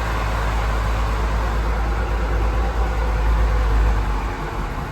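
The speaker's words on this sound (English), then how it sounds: "Choke straight off, 2-stroke engine, choke straight off." A 1959 Vespa 400 microcar's two-stroke engine idles with no throttle and no choke, a steady, continuous low rumble with broadband hiss that holds even and loud throughout.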